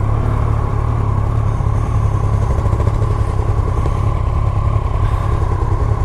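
A 2018 Yamaha MT-09 motorcycle engine runs at a steady, even throb, fairly close and loud, holding a constant note with no clear revs or pauses.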